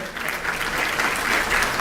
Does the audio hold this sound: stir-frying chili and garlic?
no